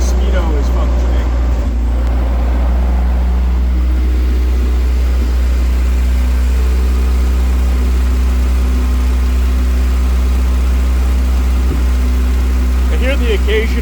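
A car engine idles close by with a loud, steady low rumble, its even running broken now and then by an uneven burble from misfires.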